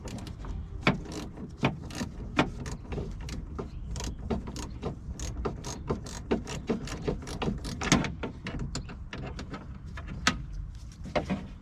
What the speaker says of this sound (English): This is where the 10mm socket and ratchet comes in play.